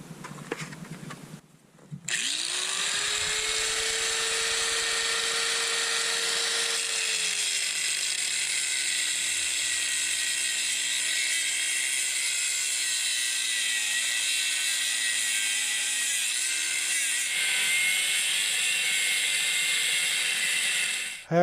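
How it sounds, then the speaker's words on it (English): Steel being cut with a cutoff wheel along a soapstone line: a sustained loud high-pitched grinding whine that drops slightly in pitch as the wheel bites in, running steadily for about twenty seconds with no talk. "So I'm just going to cut that with the cutoff wheel, just kind of walk it right down and cut that piece out."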